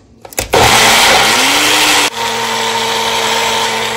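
A kitchen blender grinding a whole onion into paste starts with a few knocks, then runs loud and steady with a rising whir before dropping to a lower, steadier hum as the paste smooths out, with no talk over it.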